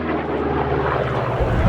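A Republic P-47 Thunderbolt, a large heavy WWII piston fighter, flies at the Cosford Airshow 2025. Its engine gives a steady, loud broadband roar that swells slightly toward the end, with some wind buffeting and no voices.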